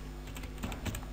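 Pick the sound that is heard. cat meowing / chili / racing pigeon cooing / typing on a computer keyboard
typing on a computer keyboard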